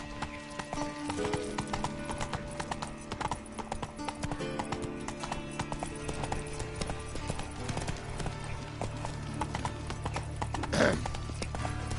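The horse Roach's hooves clip-clop steadily at a walking pace in The Witcher 3: Wild Hunt, a continuous rhythmic clatter over a low musical drone with a brief snort or whinny near the end.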